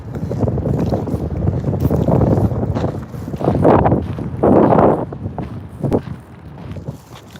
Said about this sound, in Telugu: గాలి ఓ అని వస్తుంది